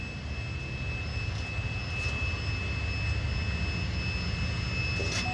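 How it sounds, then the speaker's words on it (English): An air compressor runs and builds pressure with a steady low mechanical rumble and a faint constant whine, continuing evenly at moderate volume without speech. "waiting for the air to finish building in the compressor."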